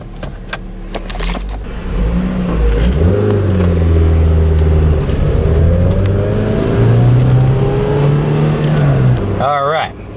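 Close car engine revving hard after reaching operating temperature, rising and falling through several pulls with steady loud drone and a sharp change near the end, no voices.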